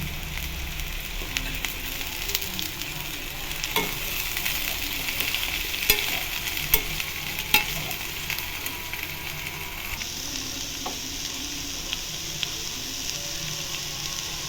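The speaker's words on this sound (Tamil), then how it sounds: "அதனால் எண்ணெயிலேயே இந்த காயை நம்ம வதக்கணும்" Green beans sauté in hot oil in a pan with a constant crackling sizzle, broken by occasional sharp spatters and spoon scrapes, close and steady throughout.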